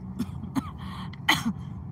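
A person coughs and clears their throat several times in short, rough bursts, close and fairly loud, over a low background hum.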